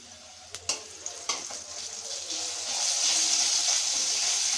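Tempering spices hit hot oil in a pan for tomato rasam, a few sharp crackles and pops first, then building into a steady, loud sizzle.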